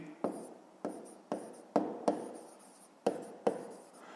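A pen scratches across paper while working a fifth-grade maths exercise, close and quiet, in about eight short bursts of writing strokes at an irregular, unhurried pace.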